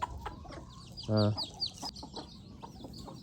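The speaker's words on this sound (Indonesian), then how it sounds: "Tuh kita kasih makan ayam sini dekat kandang sapi nih." Chickens being fed near a cattle pen in a rural Sumatran village give close, busy clucks and chatter, while a person briefly speaks and a loud low thump sounds partway through.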